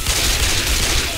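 Hunting rifle firing incendiary rounds against zombies in Left 4 Dead 2, a loud, dense, continuous clatter of close gunfire with crackling noise and no clear voices.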